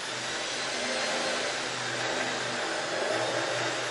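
A drill spins a carbide-tipped coring bit into wood through a hinge template, giving a steady, close, dense whir that stays even in level for the whole stretch, with no speech.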